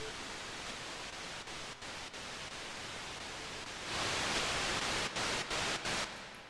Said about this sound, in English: I just made it the white noise sound right here.